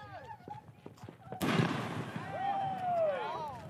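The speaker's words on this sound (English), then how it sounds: "I think we should light these, and I think we should send off artillery shells" A New Year's fireworks mortar shell goes off with one sudden loud bang, followed by a long crackling, hissing tail as it bursts overhead. Excited voices shout and whoop around it, and there is a whistle-like rising tone.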